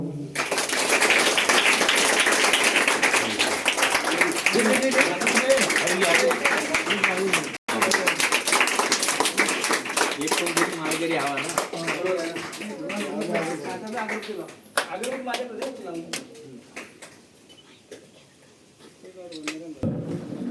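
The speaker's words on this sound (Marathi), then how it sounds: "टाळ्या वाजवा" An audience at a school supplies distribution event claps, a burst of dense applause that fades out, with a voice talking over it before and after.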